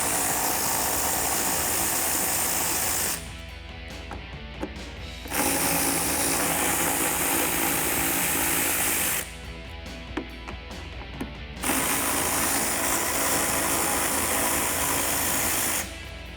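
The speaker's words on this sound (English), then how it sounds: "take out the 3 screws that are holding it in. I'm going to use a T20 Torx socket in order to remove those" A T20 Torx socket on a power driver removes the fog light screws on a Jeep Wrangler JL, a steady close mechanical whir broken by two brief ratcheting pauses, with no talk.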